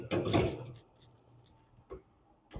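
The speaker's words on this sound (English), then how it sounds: "Go ahead and follow me over to the oven. And we'll put this in." An oven door thumps and rattles shut close by after a frittata goes in, followed by a couple of faint clicks and knocks in a quiet kitchen, with no talking.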